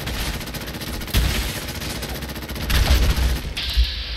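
Rapid gunfire aimed at a robot in Fallout 4, close bursts of automatic shots with heavier booming hits, loud and steady with no talk.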